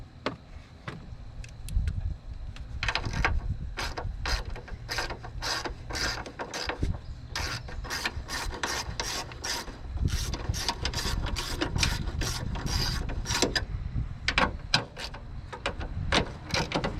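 A ratchet with a deep well 10mm socket loosens bolts on a broken-down van, producing close, sharp clicking in rapid bursts of repeated strokes, pausing briefly between runs.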